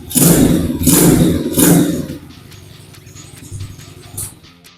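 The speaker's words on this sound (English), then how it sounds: "You simply hold the brake down and hit the ignition switch and she fires into life." An ATV125 quad bike engine starts and runs, first with three loud revving bursts close by, then settling to a quieter, steady idle.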